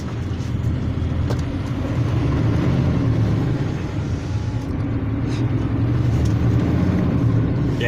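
An HGV lorry towing a trailer rumbles steadily along the road, a continuous loud low engine and road drone heard from inside the cab with no talk.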